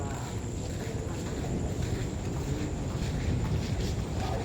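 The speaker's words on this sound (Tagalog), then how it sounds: "Katakot naman yung alon na 'yan." Rough ocean waves roll onto Long Beach in Zambales, a continuous low roar and wash with wind buffeting the microphone and no clear break between surges.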